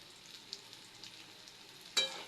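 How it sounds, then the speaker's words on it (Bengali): Chopped onion and green chilli frying with chicken and whole cumin in a pan, a soft steady sizzle that flares into a louder hiss near the end, likely as food is stirred. "ভালোভাবে ভেজে নেব আমি"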